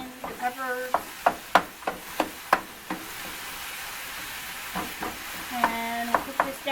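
Onions and peppers cook down in a pan with a low sizzle, punctuated by a rhythmic series of sharp utensil knocks and scrapes, with a brief voice in the background.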